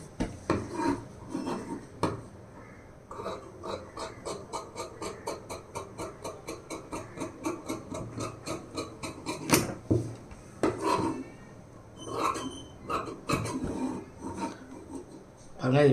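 Scissors cut through blouse fabric along marked lines at a tailoring table, a long run of regular rhythmic snipping and rasping strokes, close and fairly loud, with a brief pause and a few heavier crunches near the end.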